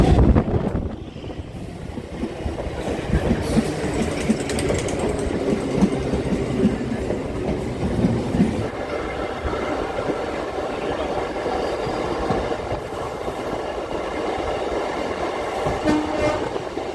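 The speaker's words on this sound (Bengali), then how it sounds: "দুর্গাপুর থেকে কিন্তু এখন আমাদের ট্রেন ছেড়ে দিয়েছে" A local train runs on the tracks after leaving Durgapur, a loud, continuous rumble with rhythmic clattering of wheels over rail joints and a horn sounding early on.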